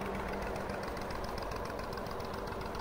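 A tractor engine runs at a steady idle-like drone with a rough knocking throb, loud and close for a few seconds, with no talking.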